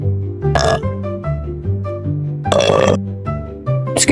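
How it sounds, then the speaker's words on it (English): A woman lets out a loud, drawn-out burp with a deep, croaking tone, several throaty bursts rolling one after another up close. "That was a good burp."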